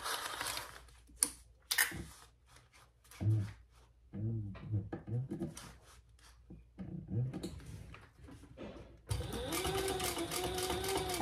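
A sewing machine stitches a crossbody bag in short bursts with pauses between, then runs steadily near the end, close and clear with no talk.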